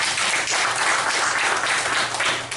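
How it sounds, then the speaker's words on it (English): An audience at an academic research presentation gives a round of dense, continuous applause, close and loud, without talk over it. "let's give him another round of applause"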